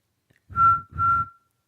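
Two sustained whistled notes, each about a third of a second, with a short gap between them. A person whistles them up close to imitate a steam whistle.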